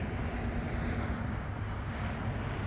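An E-flite Valiant RC airplane comes in to land at a model flying field, its engine heard as a steady, broad hum mixed with buffeting wind noise.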